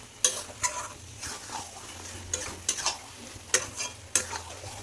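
Marinated meat stirred and fried in a pan, a soft continuous sizzle broken by repeated sharp scrapes and clinks of a spoon against the metal, close and regular, with no talk.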